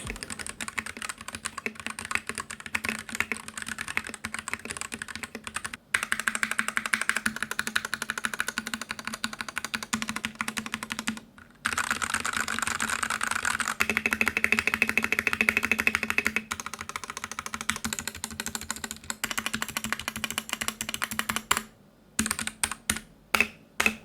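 Continuous fast typing on a Noir N1 v2 mechanical keyboard, with dense close-up key clacks broken by a few short pauses and no voices.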